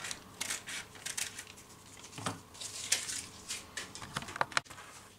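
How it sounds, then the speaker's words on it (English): Fabric being cut with scissors for a batwing top sewing pattern, a series of close crisp snips and rustles, irregular in rhythm and moderately quiet, with no talking. "Cut out the back panel first."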